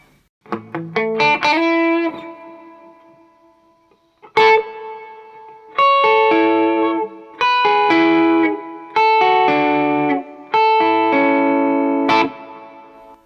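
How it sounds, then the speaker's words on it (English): Electric guitar notes and chords through a reverb pedal in church mode ring out with a spacious, long-tailed reverb, played in separate phrases with pauses between them, loud and without speech. "That church mode just has a really long tail on it."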